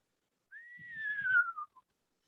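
A person whistles one sliding note, an imitation of a screech owl call, rising briefly and then drifting slowly down in pitch, close and clear, followed by a tiny short blip at the end.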